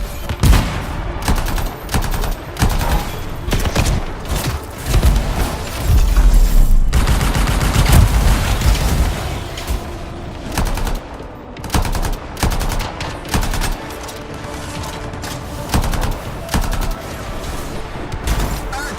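Rapid bursts of automatic gunfire from the video game Anthem, dense and loud, with heavy low booms mixed into a busy battle soundscape of repeated volleys.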